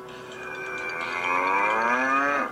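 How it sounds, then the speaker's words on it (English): A cartoon cow in the video game Angry Birds 3D gives one long, drawn-out moo that swells and then cuts off sharply, loud and clear with no talking. "It's a cow."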